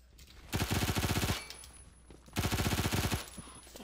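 An MP5K submachine gun in the video game Phantom Forces fires two rapid full-auto bursts, each about a second long, loud and close with brief pauses between them.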